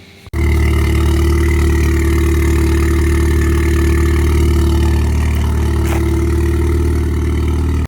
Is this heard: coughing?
no